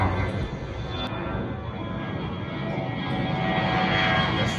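A steady, broad roar of an Air India airplane engine fills the air over Ahmedabad, gradually swelling louder as it passes overhead.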